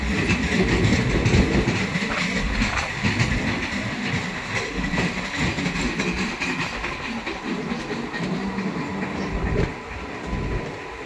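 A passenger special train runs on rails through the Mehrawal station loop line near Aligarh, a loud continuous rumble with rhythmic clickety-clack of wheels over rail joints, heard from aboard without talk.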